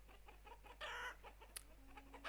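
Chickens cluck in the village-building game Banished, a few short clucks and one louder squawk over a low steady hum, with no talk.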